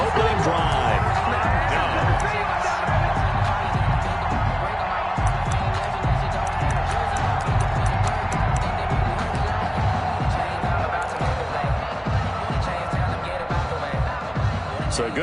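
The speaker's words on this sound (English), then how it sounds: "And this crowd loves it as their guys hold on the opening drive." A stadium crowd in a PS4 football video game roars and cheers as a steady, wide wash of noise under continuous play-by-play commentary.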